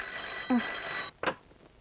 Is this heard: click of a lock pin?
no